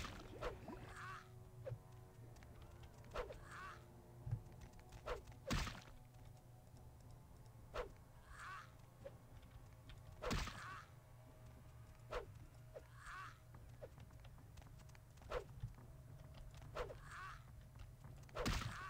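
Fire axe melee strikes from Vampire The Masquerade: Bloodlines, a series of sharp, crunching hits spaced a few seconds apart over a steady low game ambience, with faint repeated swishes between them and no talking.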